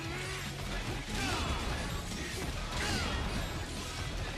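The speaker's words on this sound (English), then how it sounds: "he's using a Sonic Blade attack" Sonic Blade attack in the Metal Gear Rising: Revengeance video game, dense metallic slashing and crashing game effects with whooshing sweeps, loud and continuous, with a voice speaking over them.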